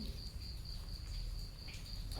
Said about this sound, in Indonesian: bisa dengerin suara jangkrik ya, bisa dengerin suara tetesan air dari gua ini